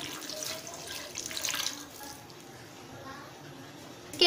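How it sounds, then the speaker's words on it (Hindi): Half a glass of water splashes and pours steadily into a cooking pot for a couple of seconds, then fades to quieter trickling, ending with a sharp clink. "अब हम इसके अंदर आधा गिलास पानी ऐड करेंगे।"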